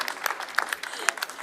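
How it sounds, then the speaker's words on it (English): A brief burst of scattered clapping from the audience at a trade fair live show, light and uneven, with a few sharper individual claps standing out over a soft background. "So big up applause for the backstage team."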